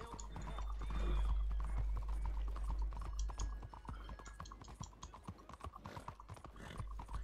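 Horse hooves clatter in rapid rhythmic clip-clops during gameplay of Red Dead Redemption 2, fairly faint and steady, with a soft low rumble at first.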